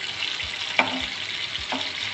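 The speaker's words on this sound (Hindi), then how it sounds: "मैंने बिल्कुल लो फ्लेम पे इनको फ्राई करा है।" Seekh kababs fry on a low flame in a gentle, faint sizzle, broken by a couple of soft clacks as the pieces are turned.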